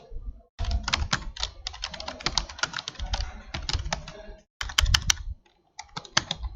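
Fast typing on a computer keyboard, close and crisp, with rapid clustered keystrokes broken by short pauses and a few isolated taps near the end.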